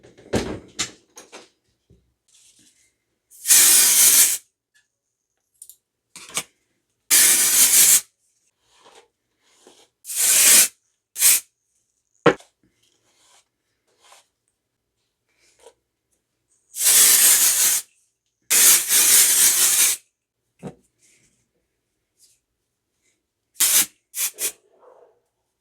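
Several long bursts of an aerosol dry hair mask spray (IGK Antisocial) hiss, each a few seconds, separated by quiet gaps with small clicks and handling noises.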